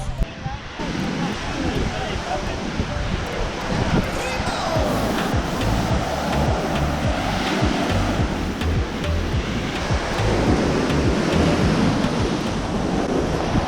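Sea waves break continuously on a crowded beach in Romania on a hot day, a loud, close, rushing roar of surf that swells and recedes without pause.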